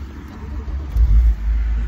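A BMW 135i Sport Edition turbo with a manual gearbox and six-cylinder engine starts up, the cranking giving way to a low, close rumble that swells and settles into idle.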